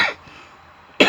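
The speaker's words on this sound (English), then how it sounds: "Every video I'm coughing, I swallowed a bug." A man coughs sharply, with a short harsh burst at the start and another close, loud cough just under a second later, after swallowing a bug.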